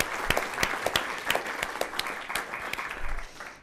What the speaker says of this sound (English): One more hand clap,